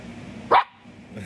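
A single sharp, high puppy bark rings out close by, alone against a low background hum.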